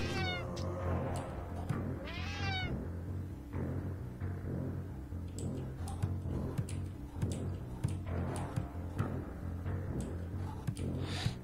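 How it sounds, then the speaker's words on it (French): Repeated cat meows from the video game Friday the 13th Killer Puzzle, rising and falling cries over a steady, busy game soundtrack, with no talking. "Non, je ne veux pas tuer le chat."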